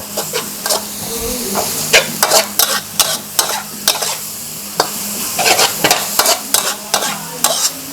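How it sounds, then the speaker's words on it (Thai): Instant Mama noodles stir-fried with basil chicken in a hot pan: continuous sizzling frying under repeated sharp scraping and clacking strokes of a spatula, close and fairly loud. "ผมก็จะใส่เส้นมาม่าลงไปครับ น่าทานมาก คลุกนะครับ ผัดนะครับให้เข้ากัน"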